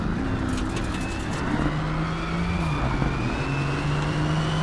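An electric car accelerates in a PlayStation VR driving game, its synthetic motor tone rising and shifting in pitch over a dense, steady wash of road and engine noise, with no talking.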